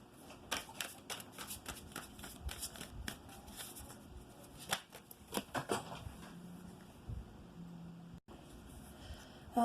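Arcanum tarot cards are shuffled close by in a long run of crisp riffling flicks and slaps, irregular bursts with brief lulls, alone and fairly quiet.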